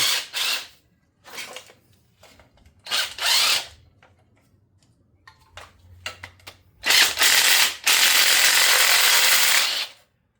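Ratchet wrench loosening the valve cover bolts on a 455 Buick engine that was full of water, loud close bursts of rapid clicking in several short runs, ending in longer sustained stretches.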